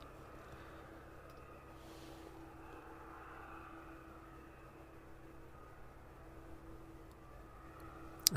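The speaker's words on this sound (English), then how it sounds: "The 777 in the distance, arriving in from Leipzig." A Boeing 777 arriving at East Midlands Airport from Leipzig on a wet day, heard as a steady, distant jet roar that holds evenly throughout, ending in a sharp nearby knock.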